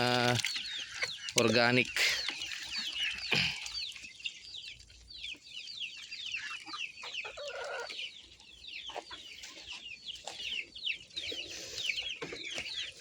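Rhode Island Red cross chickens cluck steadily while feeding in a backyard farm, a dense overlapping chatter of many birds at moderate distance, with a person's voice briefly heard near the start.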